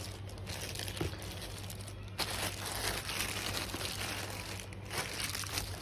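Close, steady crinkling and rustling of plastic packaging as a new AKG microphone is unboxed, with a low hum underneath and no talking.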